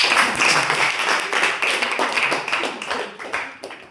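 A group in a classroom or training session applauds a presenting team, a steady patter of many hands clapping at close range for about four seconds, fading slightly toward the end.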